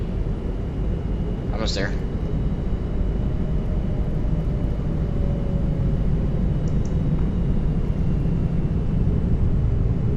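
A Boeing 787 in X-Plane 11 on approach to land with the gear down gives a steady, close engine roar and airflow rumble, while someone speaks briefly over it.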